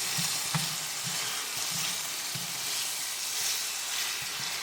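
Sausage frying in its own grease in a pan gives a dense, continuous sizzle and crackle close up, with faint soft scrapes of stirring mixed in.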